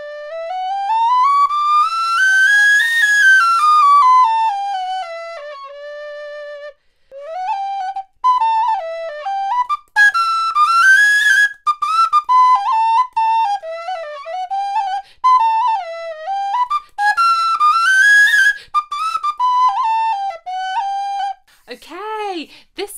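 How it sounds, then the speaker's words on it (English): A hexagon-shaped extendable telescopic flute plays a bright, pure melody up close. It opens with a long rising and falling phrase, then moves into quicker stepped runs and trills with short pauses, ending on a fast flourish. "think I've ever played a flute shaped like a hexagon before."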